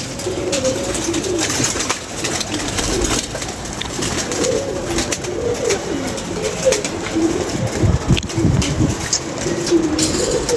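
Striped pigeons cooing continuously in a loft, a dense overlapping chorus of low, throaty coos with rustling wings and background noise throughout.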